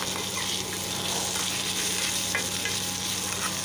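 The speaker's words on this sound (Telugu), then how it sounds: "మెంతులు, ఎండుమిర్చి వేసి కొంచెం వేయించుకోవాలి పచ్చివాసన పోయే వరకు" Fenugreek seeds, dried red chilies and coconut sizzle steadily in a pan, a dense continuous crackle close up with no talking.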